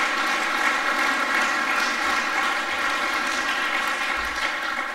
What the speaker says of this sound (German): Ich glaube, es ist mal einen besonderen Applaus für uns.